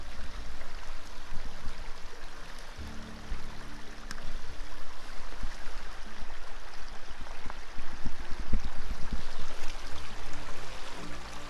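Creek water flows steadily outdoors in winter at a geode-collecting spot, making a continuous broadband rush and babble that stays fairly loud and close throughout.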